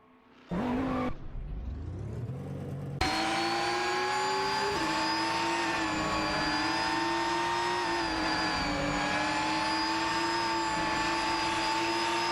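GT3 race cars, including a McLaren MP4-12C GT3 and a Nissan GT3, racing in an AI racing video game, a loud continuous engine drone with rising and falling pitch as the cars accelerate and shift, steady and unbroken after a short opening burst.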